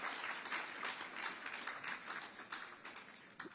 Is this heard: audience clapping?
yes